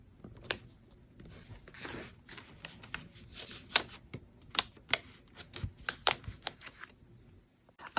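Payday sticker being peeled and pressed onto a page of an A5 ring agenda planner, a run of close, crisp paper rustles and sharp little taps and clicks, quiet and unaccompanied by talk.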